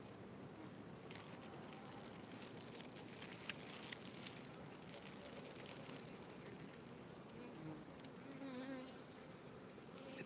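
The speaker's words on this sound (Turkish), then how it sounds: "Etrafımda dönen bir sürü arı var." Steady bee buzzing fills the air, a dense droning hum that holds throughout without pause.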